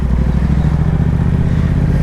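A single-cylinder motorcycle engine, likely a Keeway Cafe Racer 152, idles loud and close with a steady, throbbing low putter.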